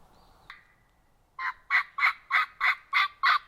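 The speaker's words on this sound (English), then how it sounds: "he's gobbling fairly consistently" A wild turkey gobbler in New York farm country gobbles loudly and close, a rapid run of about seven throaty bursts after one faint early call, with no other sounds.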